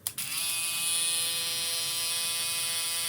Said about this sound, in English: I'm gonna go ahead and turn this shaver on